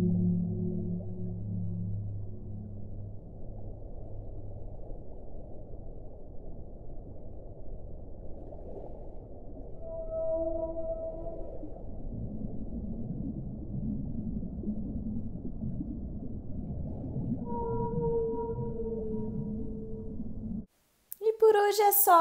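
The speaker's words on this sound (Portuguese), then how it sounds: "E sim, as baleias vocalizam, ou seja, elas se comunicam umas com as outras através dos sons emitidos por elas." Whale vocalizations under the ocean: long, low moaning tones and occasional higher calls drift slowly over a steady deep rumble, with no talking.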